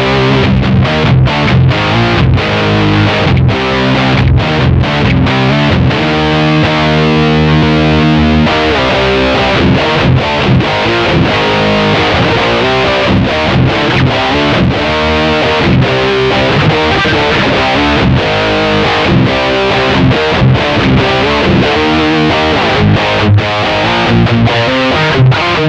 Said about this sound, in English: Let's go ahead and hear how it sounds with the Skybridge in the drive mode